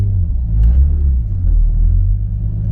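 Big-turbo BMW E36 drift car engine idling with a deep, steady low rumble and a slight swell in the middle, close and loud, with no talk.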